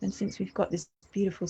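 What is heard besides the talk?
None of the usual background noises is heard.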